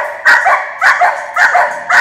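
A dog in a training setting barks in a steady series of four sharp, loud, close barks at roughly half-second intervals, with no talking.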